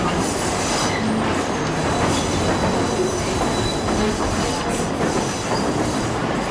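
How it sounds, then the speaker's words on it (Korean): A train slows along the tracks by the River Kwai, loud and close and rumbling steadily, with rattling wagons and brief wheel squeals. "추억을 싣고 화이강을 따라 달리던 기차가 서서히 속력을 늦추기 시작합니다"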